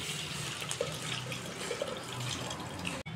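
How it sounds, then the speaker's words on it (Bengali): Hot water poured into dal in a cooking pot, a steady close wash of splashing liquid that runs the whole time and stops abruptly at the end, with no speech. "জলটা কিন্তু গরম হয়ে গেছে, এবারে এই জলটাই আমি ডালে মিশিয়ে দেবো।"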